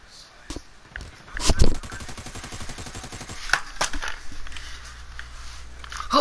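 Sniper gunfire in a video game: a rapid burst of sharp cracks around the middle, then scattered single shots against quieter game noise.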